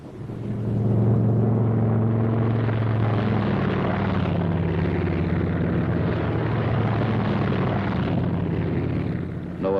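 Engines of a World War II bomber squadron aircraft taking off in Italy, a loud, steady propeller drone with deep rumbling tones that hold throughout, close and continuous with no talking.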